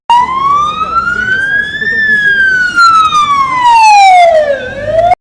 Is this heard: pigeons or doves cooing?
no